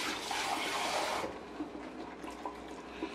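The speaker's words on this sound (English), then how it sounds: "We're gonna go in with water." Water poured into a massive pot of Caribbean stew chicken soup, a bright rushing splash lasting a little over a second, then settling to a quieter sloshing trickle and small stirring knocks.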